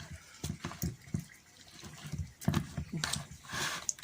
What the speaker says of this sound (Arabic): هلا شوفوا بكب مي، هيدي المي ما في مشكلة ابدا.